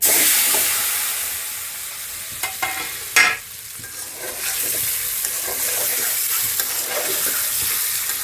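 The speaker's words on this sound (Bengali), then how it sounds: "ডিমগুলো তেলে ভেজে নেওয়ার জন্য দিচ্ছিলেন, ডিম ভাজা হয়ে গেছে।" Eggs frying in hot oil with turmeric, a steady close sizzle and hiss that eases slightly, broken by a few sharp spatters and stirring knocks.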